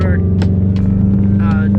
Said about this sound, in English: I don't know if y'all can hear me or be able to hear me over John's exhaust